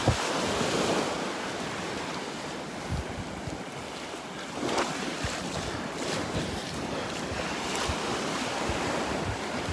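Ocean waves wash onto the shore at Tigertail Beach in a continuous roar, with strong gusting wind buffeting the microphone and no voices.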